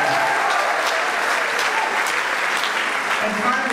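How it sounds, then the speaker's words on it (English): Sustained audience applause fills a school auditorium at a spring choral concert, a dense, even wash of clapping from a large crowd lasting several seconds. "I'd like to give Valerie a round of applause and thank her."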